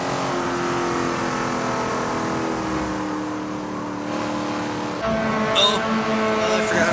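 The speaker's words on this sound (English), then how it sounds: "I can't believe your car sounds actually tougher than mine." A race car engine in Forza 7 roars loudly with a sustained, shifting drone, rising again after a gear change midway, with brief talk over it.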